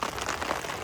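Rain beginning to fall at a campsite near the jungle during a summer windstorm, a dense, even patter of drops on surfaces, fairly soft and continuous, with no one speaking.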